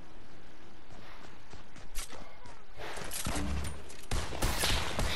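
Rapid bursts of gunfire from a Fortnite hide-and-seek match on the original season one map, with dense crackling shots and impacts filling the scene and a louder flurry toward the end.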